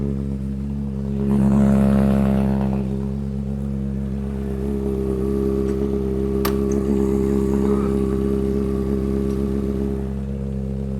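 A Honda CBR600RR motorcycle engine idles steadily while warming up from cold, a close, even, low drone with a brief rise in revs near the start, running alone without talk.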